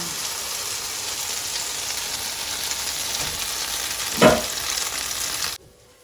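Slices of brioche French toast sizzle steadily in butter in a pan, a constant close frying hiss with one brief louder crackle near the end before it cuts off.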